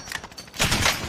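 Gunfire in the shooter game Warzone: a short burst of rapid automatic shots, loud and close, following a few lighter clicks and thuds.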